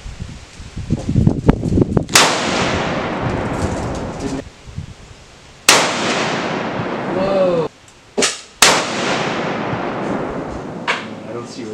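Rifle shots fired at steel and cardboard targets on an outdoor shooting range, several sharp loud reports spaced a few seconds apart with rustling and handling noise between them.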